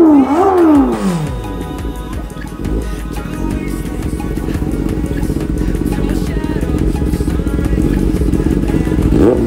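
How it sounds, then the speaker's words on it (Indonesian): Kawasaki ZX6R sport bike exhaust revved during a sound check, a sharp rising and falling blip at the start, then a loud, rough sustained roar up close, ending with another quick rev. "Nah, kita bandingkan sama ZX 6R yang sebelah sini Kohari."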